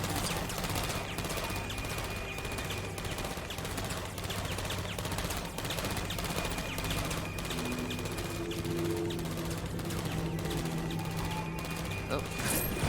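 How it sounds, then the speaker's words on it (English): Sentry turret gunfire in LEGO Dimensions' Portal 2 level, a steady rapid stream of shots layered with game music and effects, continuous and dense throughout. "So the sentry turret will keep shooting that."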